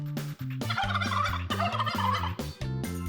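A turkey gobbles in a rapid, warbling burst of rising and falling calls, loud and close, with short breaks between phrases.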